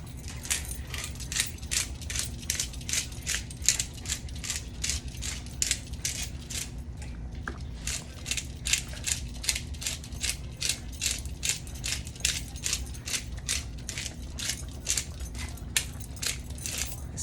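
A hand-cranked spice grinder works through dried Italian herb seasoning, giving a steady run of dry, rapid ratcheting clicks that continue closely and evenly with only a brief pause partway through.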